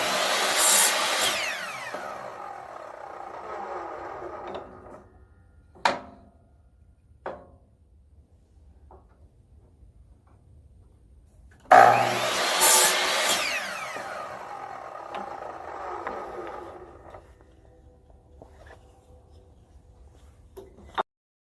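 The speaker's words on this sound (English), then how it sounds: "I want to cut it all down with the miter saw" A miter saw slices wood pieces to six-inch lengths in two separate cuts, each a loud whining spin-up and bite through the board that trails off as the blade slows, with quiet handling clunks in the gaps between.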